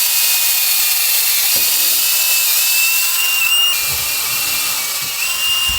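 Power drill boring holes through a 5 cm thick wooden boat plank: a steady high-pitched whine runs throughout, with a brief thump partway and rougher, louder low-end cutting noise in the later part, no voices.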